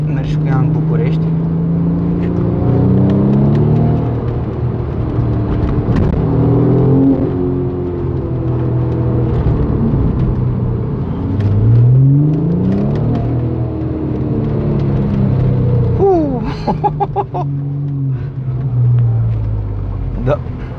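Audi RS4 engine accelerating on city streets at night, heard from inside the car as repeated rising and falling revs through the gears, loud and close, under steady conversation between people in the car.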